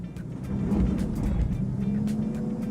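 An eco-friendly car labored in first gear with a low-geared drivetrain, the engine droning steadily and rising slightly as it pulls, with faint tire noise and no talk.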